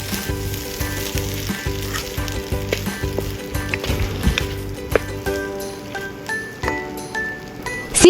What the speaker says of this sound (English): Stir-fry the rice and eggs together until they are well separated and fragrant.